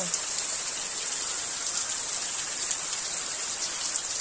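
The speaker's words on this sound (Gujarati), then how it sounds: "જબ્બર વરસાદ પડવા માંડ્યો છે" Heavy rain pours steadily, a dense continuous hiss of drops hitting surfaces close by, with no break throughout.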